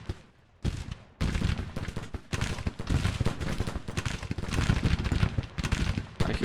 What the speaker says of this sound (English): Yes, bombardment is going fine.